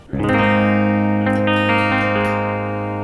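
A clean electric guitar chord on a Schecter guitar rings out and sustains, bright and close, with a second strum partway through and a gentle decay.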